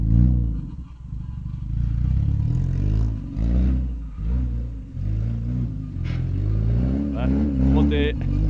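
A cheap Mazda drift car's engine revs repeatedly up close, rising and falling in uneven pulses with some clatter, while people talk over it.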